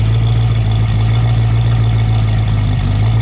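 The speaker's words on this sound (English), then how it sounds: "Listen to that exhaust." A 1968 Ford Shelby Mustang GT350 with a 302 V8 idles steadily up close, a deep, rumbling exhaust drone that holds constant with no voices.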